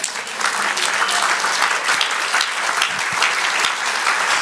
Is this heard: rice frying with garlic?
no